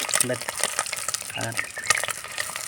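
Boiled eggs frying in masala in a pan, with a busy crackling sizzle and quick stirring scrapes, close, while a voice talks over it.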